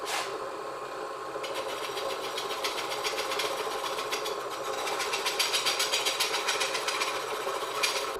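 A die filer machine fitted with a sawzall blade cuts plywood, making a steady mechanical drone with a rapid reciprocating chatter that grows stronger midway, continuous and close with no talking.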